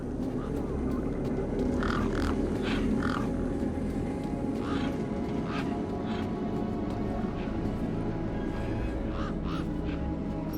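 Birds near a truck in the video game Beyond a Steel Sky cawing and honking in repeated harsh calls over a steady low rumble of background ambience, with some voice present.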